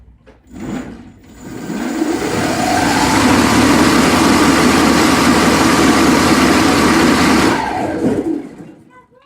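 A brushed electric motor on an ESC with a regenerative shunt spins up after a brief start, runs at a steady high-speed whine and hum for several seconds, then winds down.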